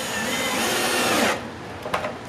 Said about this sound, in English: we're going to put 3 screws into each rib